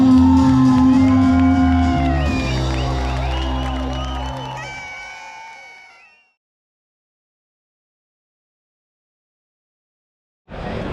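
A large crowd at the finish of the Nijmegen Four Days Marches in 2025 shouts and cheers loudly for the walkers, then falls silent for several seconds before the noise briefly returns.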